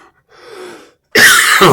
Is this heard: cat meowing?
no